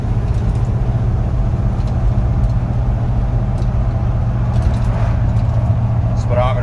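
A 1971 Chevy 4x4 truck cruising down the road, its engine drone and road rumble steady and close from the cab, with a person talking over it.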